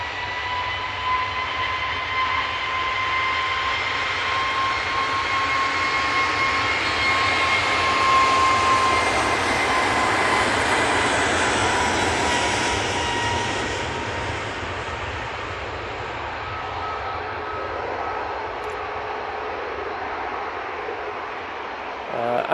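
An Etihad jet airliner at Manchester Airport gives a broad, steady engine roar that holds loud for most of the span and eases slightly toward the end, with a faint voice beneath.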